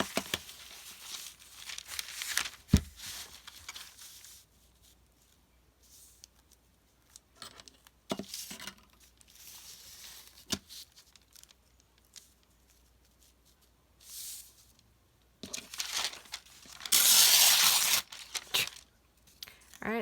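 Paper being torn and crinkled for a craft project, with scattered sharp rips and rustles between quiet pauses, ending in a longer, louder tearing pass near the end.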